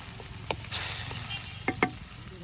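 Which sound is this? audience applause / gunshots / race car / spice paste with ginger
spice paste with ginger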